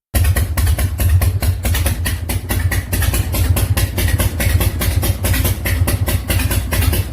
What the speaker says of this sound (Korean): 할리 특유의 V형 이기통 엔진이 엇박자로 터지면서 만들어내는 그 말 발굽 소리 들어보셨죠?